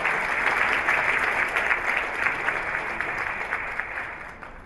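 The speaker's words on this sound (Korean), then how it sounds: "여러분 안철수 의원께 다시 한번 큰 박수 부탁드리겠습니다." Audience applause fills an award ceremony hall, a dense, steady clapping that carries on for several seconds and slowly fades, with no voices over it.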